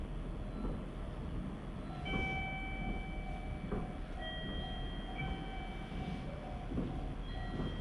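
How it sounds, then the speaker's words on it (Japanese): A six-car local train bound for Atami rolls into platform 1 of a Japanese station with a low rumble, clicking wheels and thin, drawn-out squealing tones from brakes or rails. "1番線に普通列車熱海行きが到着します。"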